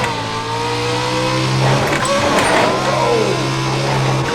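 A racing simulator game car drifting through a turn, its engine droning loudly and steadily with a rising whine and a squealing, sweeping tone in the middle, continuous for a few seconds.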